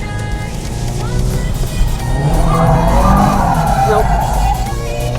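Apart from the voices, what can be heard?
turbo- and supercharged Subaru WRX doing a clutch dump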